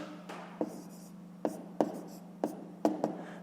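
A pen writes answers to a fifth-grade math exercise, giving soft scratching strokes broken by a handful of sharp taps, faint and close against a low steady hum.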